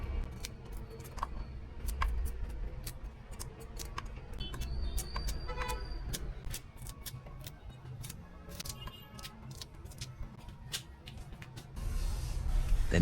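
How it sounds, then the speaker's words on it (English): Kernels are peeled one by one off a fresh corn cob, a quiet series of sharp, irregular snaps and clicks over a low background rumble. "I slowly peel off the kernels one by one until it's completely done."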